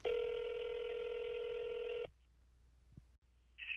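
A telephone call being dialed: a steady electronic tone holds for about two seconds, then cuts to near silence with a faint click and a short high beep near the end.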